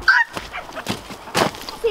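Guinea fowl on a chicken farm give loud, harsh, repeated honking calls in quick bursts, close and alone with no talk.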